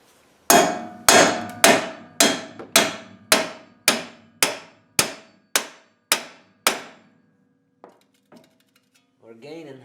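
A hammer strikes a socket set against a Jeep JK ball joint in a run of eleven loud, ringing metallic blows about half a second apart, each one decaying, followed by quieter handling sounds and a brief voice.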